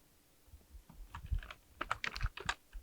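Computer keyboard typing an email address, a quick irregular run of light key clicks, close and fairly quiet, with no talking.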